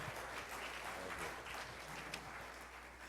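At an auctioneer contest finals in Texas, a crowd gives a round of applause, a steady wash of clapping heard faint and distant in the background.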